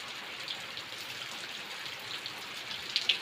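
Rain falls steadily over a village, a soft, even hiss with a few louder drips near the end, and no voices.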